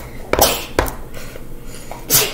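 A person sneezes sharply a couple of times at close range in a home kitchen, with short quiet gaps between the bursts.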